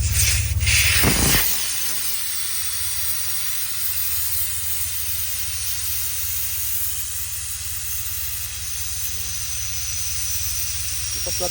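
Loud, steady hiss of air escaping from a large vehicle's tire as it is deflated to about 11 PSI for dune bashing, running continuously for the whole stretch after a brief burst of handling noise at the start.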